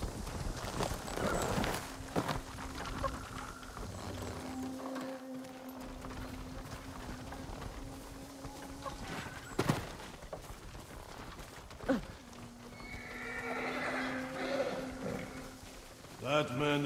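Horses clip-clop along a path in the Ghost of Tsushima video game, a steady hoof rhythm at moderate distance. It runs under continual spoken dialogue and game sounds, with a few sharp knocks.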